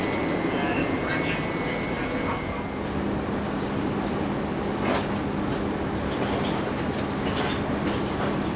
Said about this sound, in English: I'm going to be getting on the first service to Britain's newest railway station